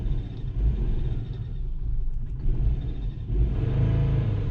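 A car engine idles with a low rumble, then rises in a brief blip of the throttle and settles back, the revs lifting again toward the end; the engine is suspected of an idle air control fault.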